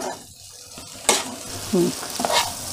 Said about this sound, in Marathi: आधी शिजून घेतल्यामुळे आपल्याला फक्त त्याची परतायची आहे त्याला